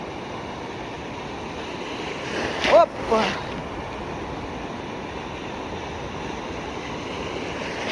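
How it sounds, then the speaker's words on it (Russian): Stormy sea surf at Anapa, a steady wash of waves with one sharper crash and splash near the middle, close to the microphone, with wind noise and a person exclaiming briefly. "Нагоняет волну."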